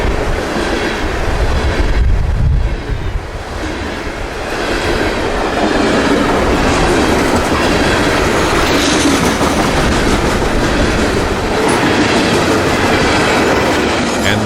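A loaded unit coal freight train rolls steadily past at close range, its railcars producing continuous heavy rumble and clickety-clack wheel noise with occasional faint squeal, loud and sustained throughout with no voices.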